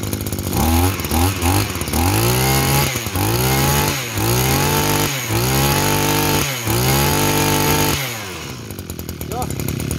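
A Japanese Mazu 20cc brush cutter engine with a 30 mm bore runs loud and close, its two-stroke whine revving up and down in repeated surges before settling lower near the end.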